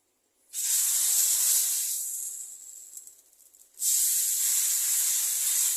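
Batter poured onto a hot tawa for a night tiffin dish sizzles loudly, a steady hiss that eases off partway, then bursts back strong as more batter meets the pan, with no talk.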